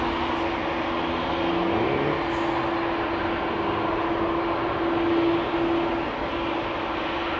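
A KLM Embraer E2 195 airliner taxiing at Amsterdam Schiphol Airport, its engines giving a steady, loud whine and rumble with a sustained tonal hum that holds through the whole stretch, alone without talk.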